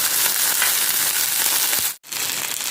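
Green fish frying in oil on a tawa over a medium-low flame, a dense steady sizzle, close and fairly loud, briefly cut off near the end.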